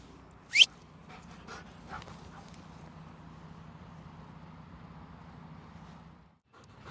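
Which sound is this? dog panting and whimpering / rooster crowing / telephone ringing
dog panting and whimpering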